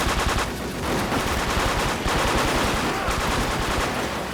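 Rapid automatic gunfire in the online shooter Wolfteam, dense bursts of shots filling the whole stretch at steady loudness, with faint talk mixed in.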